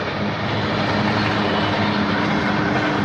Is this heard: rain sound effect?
no